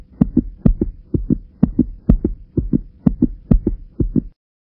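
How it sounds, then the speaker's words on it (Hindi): A loud heartbeat sound effect thumps alone in steady double beats, about a dozen lub-dub pairs in even rhythm, close and heavy, before cutting to silence. "पिज़्ज़ा आते देख कर दिल ने ज़ोरों से धड़कना शुरू कर दिया है"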